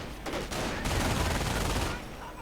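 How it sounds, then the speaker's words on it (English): Heavy automatic fire from MP40 submachine guns in a World War II strategy video game, a dense sustained burst of overlapping shots that swells and rolls continuously for about two seconds before easing off. "running into heavy automatic fire from the MP40s"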